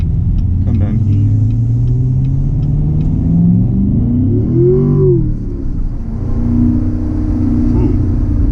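A 2015 Corvette 3LT manual sports car engine rumbles and revs while rev matching, its pitch sweeping up and dropping back, loud and close, with a voice briefly audible over the engine.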